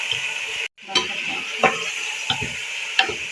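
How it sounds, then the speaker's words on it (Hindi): One kilo of mutton being stirred and fried in a pot, a close sizzle punctuated by four or five rhythmic spoon scrapes and stirs after a brief pause, no speech. "अब ये मेरे पास 1 किलो मटन है, हम ये शामिल करेंगे। इसको हम अच्छी तरह से फ्राई कर लेते हैं।"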